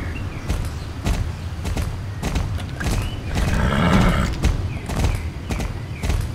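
Horse hooves clop in a steady rhythm with a snorting, whinnying swell partway through, loud and close, from a horse in the video game Star Stable.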